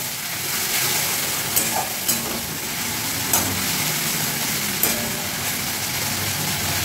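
Spice paste with yogurt fries in a pan for a jackfruit kofta curry, giving a constant close sizzle broken by several sharp clicks of the spoon against the pan as it is stirred.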